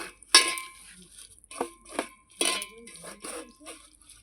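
Coriander leaves being mixed together with oil in a bowl, a series of close, sharp clinks and scrapes of utensil against dish in an irregular rhythm, with brief quiet gaps between.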